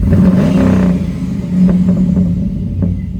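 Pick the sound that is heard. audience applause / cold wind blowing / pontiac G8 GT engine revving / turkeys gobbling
pontiac G8 GT engine revving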